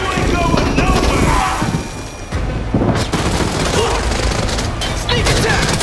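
Gunfire fills the Arena Breakout Infinite trailer, with loud continuous volleys and booms layered with clatter and shouting voices throughout.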